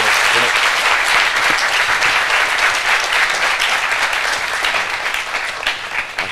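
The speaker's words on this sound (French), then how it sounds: "Nous allons encourager avec des applaudissements, s'il vous plaît, mesdames et messieurs" A studio audience breaks into sustained applause, loud and dense with many hands clapping steadily before it gradually tapers off.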